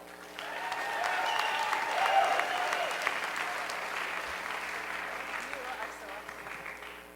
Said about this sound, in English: may I have a big round of applause, please, for Kyle